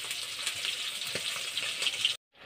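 Bata fish fry crisply in a pan over a wood-and-leaf fire, a steady close sizzle with small spitting crackles that runs on, then cuts to near silence and returns faintly.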